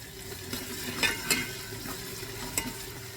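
Onions with whole garam masala being stirred in a pan, heard as a low, steady sizzle broken by a few sharper scraping strokes of the spoon, fairly quiet and close, with no voices.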